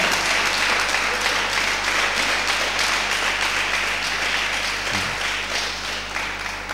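Church congregation applauding during a Sunday service, with dense sustained clapping that fills the room and fades slightly toward the end.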